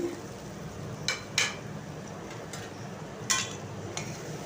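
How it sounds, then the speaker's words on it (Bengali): A metal spoon stirs chopped tomato and chili into spices in a cooking pan, giving a few faint scrapes and clinks over a quiet, low kitchen background, with no talk. "এরপর মশলার সাথে খুব ভালো করে মিশিয়ে নিচ্ছি।"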